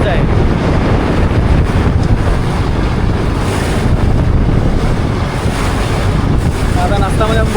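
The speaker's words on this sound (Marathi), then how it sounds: "वादळ बघा किती सुटलं जोराने." At sea aboard a fishing boat out for pomfret, a storm roars as loud wind buffets the microphone and waves crash and surge continuously around the hull, all close and relentless.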